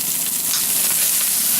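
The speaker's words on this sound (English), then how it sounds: "As soon as these are nice and crisp, I'm gonna throw in the rest of my vegetables here." Vegetables hiss and crackle in a hot pan, a loud, dense sizzle with faint stirring scrapes, close up and without any talking.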